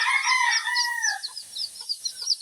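Hens brooding a group of chicks on a backyard farm, with steady high-pitched peeping and soft clucking running throughout, close and busy at first and then thinning into scattered chirps, with no talking.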